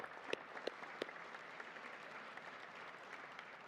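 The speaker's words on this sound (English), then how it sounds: "a big round of applause to all of them" A reception crowd at a Vaisakhi and Sikh Heritage Month event gives a round of applause, soft and fairly distant, with a few sharper claps early on over a steady patter.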